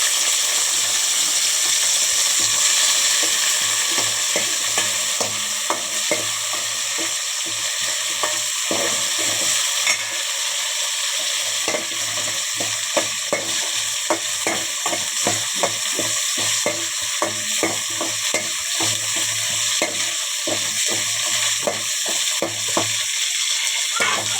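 Curry leaves and green chillies fry in a generous amount of oil for a fish curry, giving a steady, loud, close sizzle with a dense crackle of small pops throughout and no talking.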